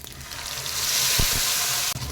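Mustard seeds, lentils and curry leaves sizzle and crackle in hot oil for a Tamil kara chutney tempering, a steady close hiss with a couple of brief low knocks near the middle.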